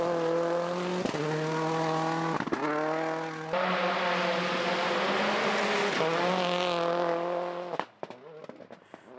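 Rally cars at speed on a slippery gravel stage at the Rally of Hawke's Bay in New Zealand, engines wailing loudly with sharp gear changes and revving, the roar fading away near the end.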